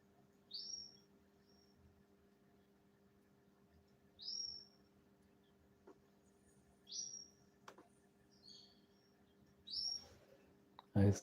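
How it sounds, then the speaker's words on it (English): Small birds chirp in brief, evenly spaced calls against a quiet background with a faint steady hum. "it's so melodious to hear them chirping"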